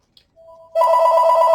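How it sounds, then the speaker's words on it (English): A landline telephone rings indoors in a home craft workspace, a brief chirp then a loud, sustained electronic ring tone close by, with no talk over it. "You have to excuse the phone."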